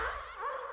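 Rubber inner tire impact recorded and pitched back down to its original pitch: a short, breathy swelling hit that fades quickly, close and moderately quiet, alone.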